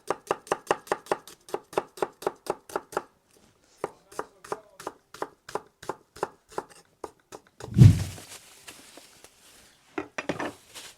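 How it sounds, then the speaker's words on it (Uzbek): A knife chops onions for tandoor samsa on a board in quick, even, close strokes. A pause is followed by a heavy thump and a looser run of cuts, with no talk. "Tak, piyoz to'rg'ayapmiz."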